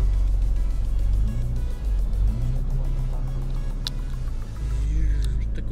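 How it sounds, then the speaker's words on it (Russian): A cold car engine is revved in short bursts, deep rumbling rising and falling several times close by, with no talk over it. "Ванёк любит газовать немножко на холодную машину"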